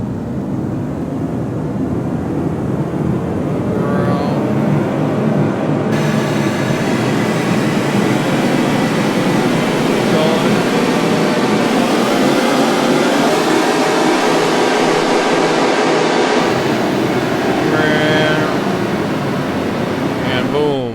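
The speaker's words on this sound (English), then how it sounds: "we can do this to do like a really wild, fun, crazy kind of build-up just by freezing it and cranking up the size" An Ableton Live 11 Hybrid Reverb is frozen with its size cranked up, making a loud, dense, roaring wash that swells and sustains like a rushing build-up.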